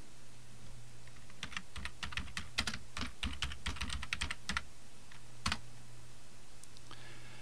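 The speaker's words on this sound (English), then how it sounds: "go to Google and type in your search term" Rapid keystrokes on a computer keyboard as a search term is typed, a quick irregular run of crisp clicks in a quiet room, trailing off into a few isolated taps.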